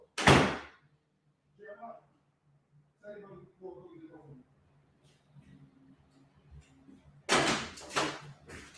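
A front door in a home is opened and then shut, giving a sharp thud near the start and a heavier double bang near the end, with quiet voices talking in between.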